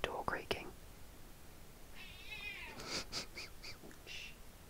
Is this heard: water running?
no